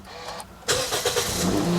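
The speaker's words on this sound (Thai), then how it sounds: "เพียงแค่เหยียบเบรกและกดปุ่มแบบนี้ได้เลย" A used car's engine starts via push-button ignition, with a brief quiet pause before the engine catches with a sharp burst and settles into a steady nearby idle.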